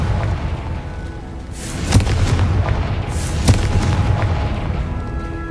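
Explosions from the Confringo fire spell in the video game Hogwarts Legacy: two sharp booming blasts over a rumbling, noisy game background, no speech.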